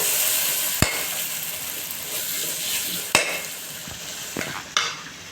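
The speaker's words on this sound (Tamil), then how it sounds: "இது கொஞ்சம் வதங்கட்டும்." Onions with coarse salt sauté in a pan for a potato masala, a continuous close sizzle broken by a few sharp knocks and scrapes of the spoon against the pan.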